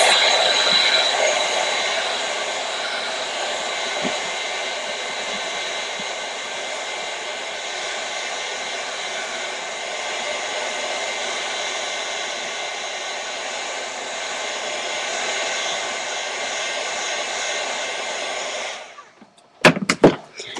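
A heat tool or dryer blows a steady, loud hiss for nearly twenty seconds while drying a mixed media craft piece, then cuts off and is followed by a few clattering knocks.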